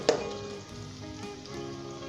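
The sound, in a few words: garlic and ginger paste frying over medium heat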